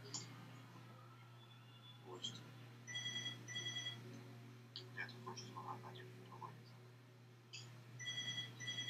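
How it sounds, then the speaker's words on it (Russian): An apartment intercom rings in repeated electronic bursts, fairly faint and steady over a constant low hum, with short gaps between rings. "О, мне домофон звонит."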